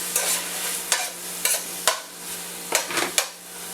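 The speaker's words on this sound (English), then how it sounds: "going to stir fry that around in there until we can smell the garlic" Garlic and smoked ham sizzle steadily in a pan, broken by repeated scrapes and stirring strokes of a utensil against the metal. It is close and fairly quiet, with no talking.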